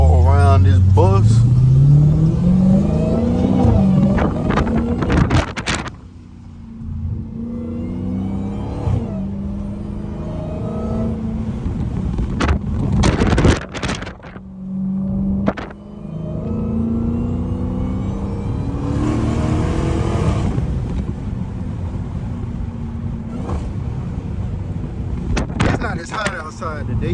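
Dodge Challenger SRT Hellcat driving through heavy rain, its engine droning and revving loudly with pitch swings and sharp bursts, a near steady rumble under someone talking throughout.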